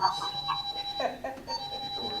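A ringing phone or alarm tone repeats in short bursts at moderate level through the room during a discussion, with a voice faintly underneath.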